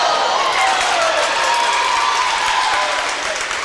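A gymnasium crowd at a high school girls' basketball game roars and applauds after a charging foul is called, a loud, steady wash of cheering and clapping that holds throughout and eases slightly at the end.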